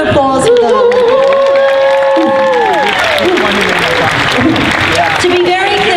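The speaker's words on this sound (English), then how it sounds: "So a huge round of applause for them." A large crowd at the Dragon Con Friday night costume contest in Atlanta applauds and cheers the contestants, loud sustained clapping with whoops and a voice over the hall's sound system running through it.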